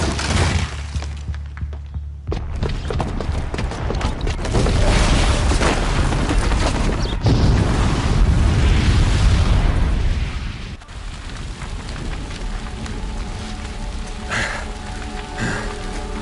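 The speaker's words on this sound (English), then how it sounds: "the booby trap on the bomb downstairs is gonna get set off" A bomb detonates in the video game Horizon Zero Dawn, a loud sustained roar of blast and shattering debris that swells, holds for several seconds, then falls away into lingering rumble and crackle.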